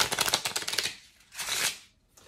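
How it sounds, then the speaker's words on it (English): A deck of playing cards is riffle shuffled, with a rapid, close, fluttering burst of cards interleaving, followed by a second shorter ruffle as the cards are squared. "give them a couple of cuts and a riffle shuffle as well."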